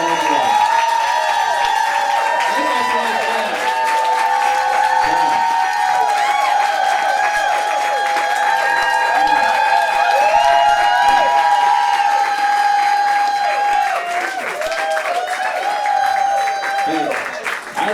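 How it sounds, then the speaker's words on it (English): Sustained applause and cheering from a big audience at the end of a live music show fills the whole stretch, loud and unbroken, with shouts and whistles rising over steady clapping. "I appreciate everyone for that long applause."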